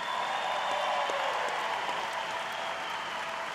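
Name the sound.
audience applause at Patriot Games closing ceremony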